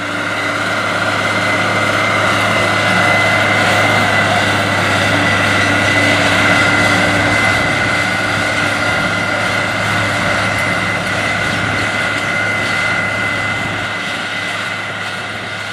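A Case International 9270 four-wheel drive tractor engine drones steadily and loudly throughout, a constant low mechanical hum with strong harmonic tones, no voices, easing slightly at the end.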